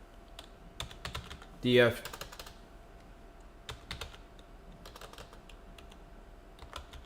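Close computer keyboard typing with irregular soft clacks throughout, a few keystroke clusters spread across the clip, beside a brief spoken word from a person.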